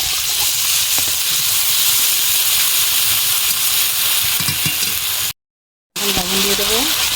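Spice paste sizzling and hissing loudly in a pan while jackfruit and prawns cook, a dense continuous fry with a short gap near the end, and a voice talking over it.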